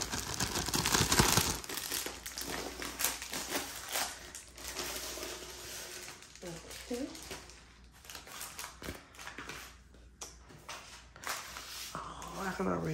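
A plastic dust bag is crinkled and torn open by hand during a diamond art kit unboxing, giving rough rustling and ripping bursts with tearing at the start. A person talks over much of it.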